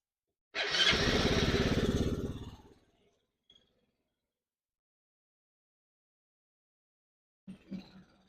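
A four-wheeler ATV engine fires up on a cold day on a lift. It gives a loud, rough roar for about two seconds, then fades away, followed by a faint knock and a brief clatter near the end.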